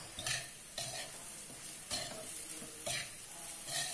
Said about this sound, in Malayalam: വെള്ളം നല്ല വെട്ടി തിളച്ച്